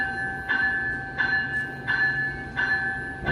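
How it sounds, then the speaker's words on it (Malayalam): A long passenger train departs Stratford railway station in Canada. Steady rail rumble runs under four evenly spaced tonal beeps that repeat about every seven-tenths of a second. "ട്രെയിൻ മൂവായി."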